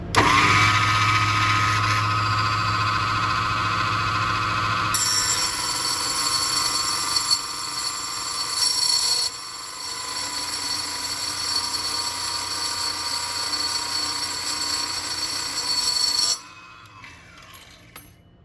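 Power tool cutting through a piece clamped in a vise for a diffraction kit, a steady loud whine running continuously for about sixteen seconds with shifts in pitch, then stopping and leaving near silence.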